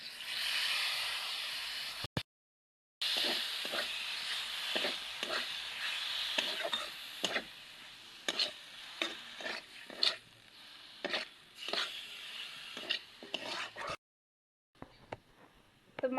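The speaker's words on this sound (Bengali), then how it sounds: "মাংসটা দিয়ে দিচ্ছি এবার।" Chicken pieces go into a pan with spices and are stirred while cooking, producing a soft sizzling hiss broken by repeated scraping stir strokes and two brief silent gaps.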